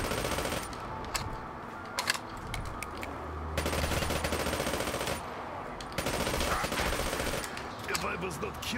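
PPSh-41 submachine gun firing in Call of Duty: Black Ops zombies, the Gorod Krovi map, with rapid automatic bursts repeating several times, loud and close amid game effects.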